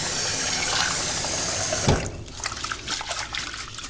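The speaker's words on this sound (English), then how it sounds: "Again, fill it with cold water." Cold water filling a bowl of rice during rinsing: a rushing tap stream that cuts off after about two seconds, followed by lighter trickles and drips.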